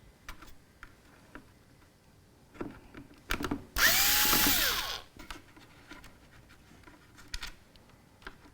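A power screwdriver whirs in one loud burst of about a second while short screws are removed from a computer case, surrounded by scattered clicks, taps and handling knocks.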